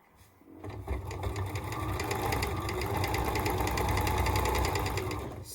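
A sewing machine stitches quilt squares together for a nine-patch block, starting up and then running in a fast, steady, close mechanical whir for several seconds.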